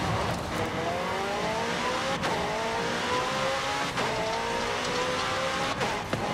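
A McLaren roofless supercar in Forza Horizon 5 drives at high speed, its engine droning loud and steady with rising pitch sweeps as it shifts through gears, plus brief sharp impacts along the way.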